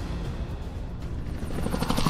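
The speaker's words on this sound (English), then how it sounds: "It's a helicopter now!" Helicopter in the video game Call of Duty Warzone, a steady low rotor drone and engine rumble running throughout, fairly loud and constant with no talking over it.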